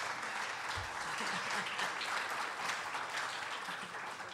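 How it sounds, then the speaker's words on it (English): A conference audience claps steadily in a dense, even wash of applause, moderately distant and sustained throughout. "Go ahead and give it a round of applause."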